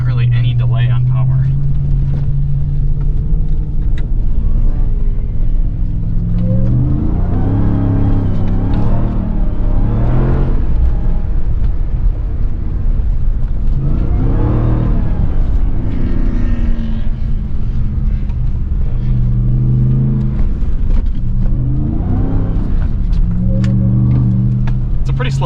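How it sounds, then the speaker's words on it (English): A large-engined 2021 Ram TRX off-roader revs while driving on sand dunes at an off-road park, a deep rising and falling engine drone heard from inside the cab beneath continuous talking. "for being such a large engine, it's fairly responsive. I mean, it takes a second to rev up"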